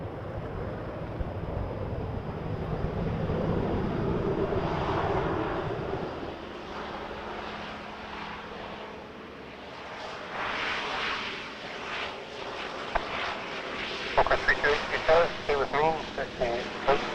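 A Q400 turboprop arriving from Prince George at Vancouver airport produces a steady engine drone and rushing air that swells and changes over time, with wind noise on the microphone and talk over it.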